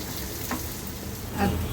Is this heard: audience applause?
no